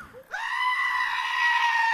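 A beatboxer's voice imitates a goat's bleat: one loud, sustained, wavering nasal cry lasting under two seconds, close up and alone, after a brief soft sound at the start.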